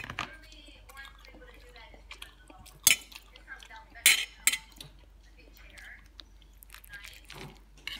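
Someone eats an eggplant dish, with soft chewing, scraping and clinking of cutlery on a plate and a few sharper clinks, close and fairly quiet, while a voice talks quietly in between.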